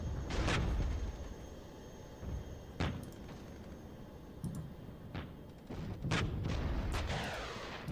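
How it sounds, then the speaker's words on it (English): Airstrike explosions in the Regiments video game, a Soviet armored offensive battle: several sharp booms land at irregular intervals over a steady low rumble of battle, some close and loud, others more distant. "Airstrike."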